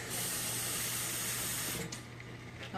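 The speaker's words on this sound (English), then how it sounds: "I'm just going to add 1 cup of water" A cup of water poured into a pot of four-bean turkey chili, a steady splashing pour for nearly two seconds that then tapers off into quieter trickles.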